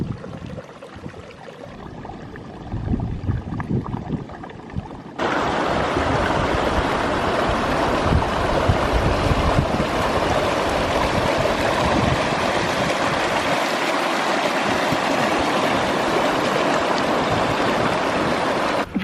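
Rushing mountain stream water near Guitar Lake, a steady broadband roar that jumps louder partway through as if stepping closer, with no talk.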